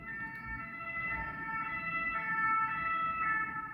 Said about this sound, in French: la sirène qui vient de passer